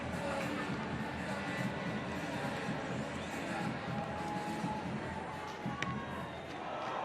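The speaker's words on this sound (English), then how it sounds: "Oh, the crowd will tell you the groan." Stadium crowd at the Perth SVNS 2024 rugby sevens groaning after a missed conversion, a broad sustained murmur of many voices filling the ground without a sharp peak.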